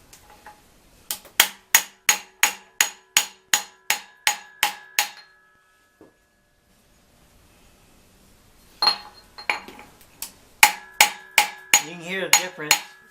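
Harbor Freight ratchet with a rubberized plastic coating tapping on a 2004 Blazer 4.3 timing chain part, a run of about ten evenly spaced sharp metallic taps, a pause, then another quick series of clinks near the end.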